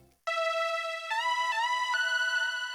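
A Serum synth lead plays a short melody at full, unprocessed speed: bright sustained tones stepping between a few pitches with quick slides, steady and loud, alone with no voice.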